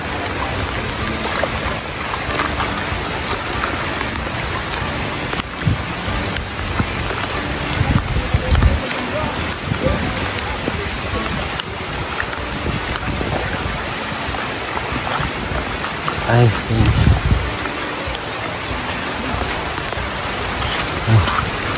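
Heavy rain falling during a flood, a steady dense hiss of drops on water and surfaces with rushing water beneath, constant and close, with a brief faint voice.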